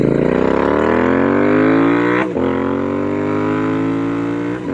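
A custom Royal Enfield Interceptor 650 twin fitted with S&S exhaust pipes roars close and loud, its note climbing steadily under acceleration, dipping briefly at a quick upshift midway, then pulling strongly again with no talking.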